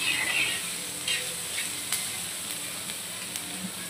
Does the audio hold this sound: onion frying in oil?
yes